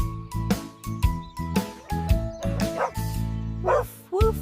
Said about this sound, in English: Woof, woof, says the dog, run and jog.